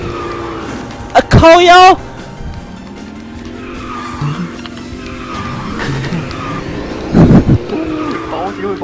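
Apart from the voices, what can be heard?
race car accelerating and skidding through a turn in a racing video game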